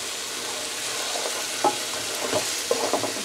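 Lamb sautéing with olive oil, carrots, onions and garlic in a pan gives a steady close sizzle, broken by a few scraping stirs and clicks of a utensil, with no voices.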